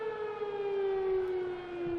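A civil defense siren wails somewhere in West Virginia, a single sustained tone that slides slowly downward in pitch. It sounds moderately distant and plays alone, with no voices.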